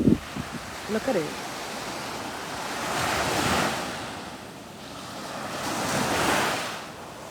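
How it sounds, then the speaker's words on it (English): Ocean surf at a beach rolls in slow, swelling waves with a steady wash of wind noise, a few brief knocks at the start and no voices. "Listen to the waves."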